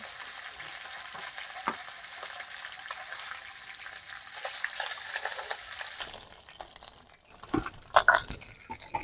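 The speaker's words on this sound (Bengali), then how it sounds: "শুধুমাত্র ইলিশ মাছগুলোকে আমি এপিট ওপিট করে শুধুমাত্র হালকা করে ভেজে তুলে নেবো" Pieces of hilsa fish, without salt or turmeric, fry lightly in oil and are turned side to side. A steady, bright sizzle continues for about six seconds, then breaks into scattered pops, spatula scrapes and stirring near the pan.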